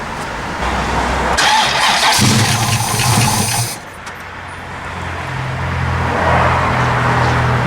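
A Pontiac's starter cranks the engine repeatedly without it catching because the tank is out of fuel, loud whirring bursts that pause briefly and then resume, close by.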